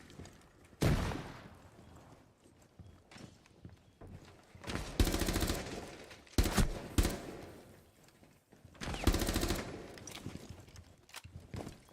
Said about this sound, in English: We're having a fucking gunfight over here, you son of a bitch!